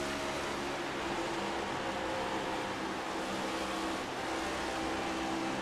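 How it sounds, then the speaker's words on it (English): Chase-cam engine note of a Chevrolet-powered race car at Las Vegas Motor Speedway in a racing game, the driver feathering the throttle out of corners: a steady, dense engine drone with slight swells in pitch, unbroken and fairly faint. "Hear him feathering the throttle a little bit as he's coming out of the corners"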